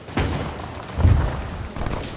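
MG42 machine gun fire in a World War II battle video game, heavy booming bursts with a low thudding body, separated by short pauses, loud and close with no talk.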